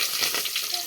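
Curry leaves sizzle and crackle in hot oil, a dense bright spitting hiss with rapid pops throughout, close and loud with no talk over it.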